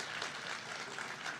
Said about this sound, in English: A round of applause for all the family and friends in the audience